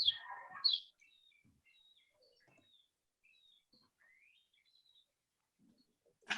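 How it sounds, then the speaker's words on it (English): Birds chirp outside the red-brick Pauline Felix House, a historic house in Long Beach. Brief chirps come faint and scattered across a quiet background, framed by short louder bursts at the start and end. "I could hear all the birds"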